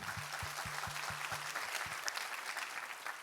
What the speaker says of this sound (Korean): 감사와 영광의 박수를 하나님께 올려드리겠습니다.